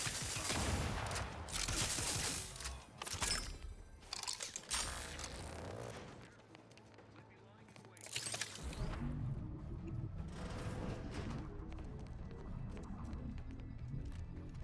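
Video-game bombardment in The Outer Worlds 2: dense bursts of gunfire and booming impacts come in heavy waves, ease briefly, then return, fairly quiet overall with a mechanical clatter between bursts.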